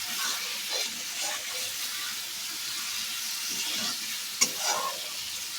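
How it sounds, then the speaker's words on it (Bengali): Potato, bori and eggplant stirred and fried in a pan, with a continuous soft sizzle and intermittent scraping stir sounds, close by and alone. "এটা আর একটু ভালো করে কষে নেব।"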